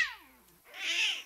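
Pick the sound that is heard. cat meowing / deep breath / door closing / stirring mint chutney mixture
cat meowing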